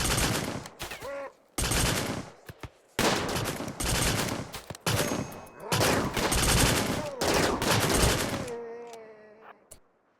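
Loud bursts of video game gunfire in RimWorld as colonists attack turrets, coming in repeated fusillades of rapid shots separated by short pauses, ending in a fading electronic tone.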